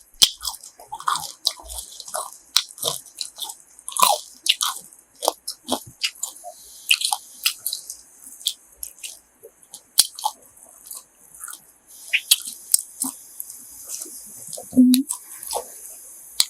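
Close chewing of crunchy grilled heart and sausage outdoors in a snowstorm, a long run of sharp irregular crunches and bites with wet squishy mouth sounds between them, loud and near.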